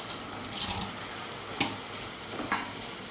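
Chopped capsicum sizzles softly in a frying pan for a capsicum manchurian, with quiet stirring and a couple of sharper clinks and scrapes of a spoon against the pan.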